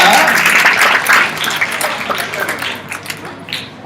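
Audience at an ICYF youth seminar in Chintalapudi claps in a dense, steady wash of applause that slowly thins toward the end, with voices mixed in.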